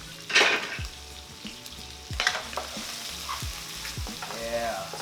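Shrimp sizzling in garlic and oil in a pan for Thai drunken noodles, with a steady fry and a few bursts of stirring and utensil clatter, fairly close and with no talk.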